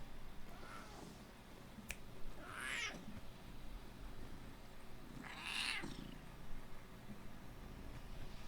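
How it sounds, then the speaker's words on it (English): A cat meows twice, two drawn-out high calls several seconds apart, over a soft low purr and a quiet room background, with one sharp click near the start. "Kitty has a purr."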